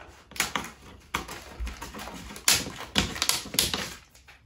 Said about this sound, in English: I'm only cutting the application tape.